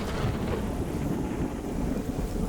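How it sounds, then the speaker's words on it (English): Steady, dense rain roars close by with a wind-buffeted rumble at the ancient Mayan city of Tikal, Guatemala, continuous and fairly loud, with no voices. "It started raining in the afternoon and had to take shelter at one of the rest areas."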